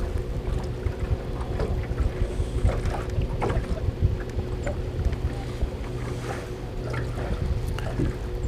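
Wind buffets the microphone on a boat on the water, a continuous rumbling gust noise with a steady low motor hum and small splashes and knocks, with no talking.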